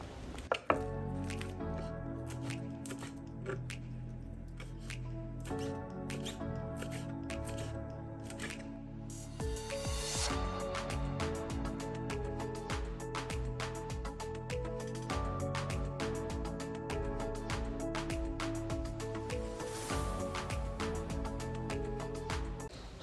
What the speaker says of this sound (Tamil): இப்போ இதை குட்டி குட்டியாக நீங்கள் அரிஞ்சு எடுக்க வேணும் இப்போ அரிஞ்சு எடுத்துகிட்டு காட்டுறேன்